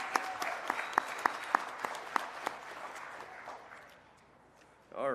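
Scattered applause from an audience at a Cherokee speaker summit. A few sharp, distinct claps stand out over a soft wash of clapping that fades away, and a voice begins at the end.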